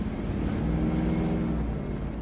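A 1969 Chevelle SS 396 big-block pulls in third gear, a deep, throaty rumble rising steadily under light throttle, loud and close throughout the brief stretch.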